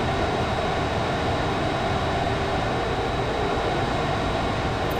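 Fighter jet engine in the VR flight game Dawn of Jets, a steady, dense roar with a faint high whine running through it, constant and close without any change in level.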